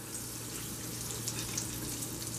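Breaded chicken balls go into hot frying oil, a steady, even hiss and sizzle that holds for the whole stretch at moderate loudness, with no voices.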